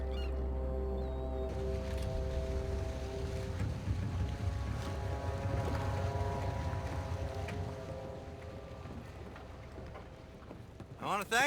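Low steady engine drone and deep horn-like tones hum throughout, with water and faint creaks, as a boat approaches in Red Dead Redemption 2; nobody speaks.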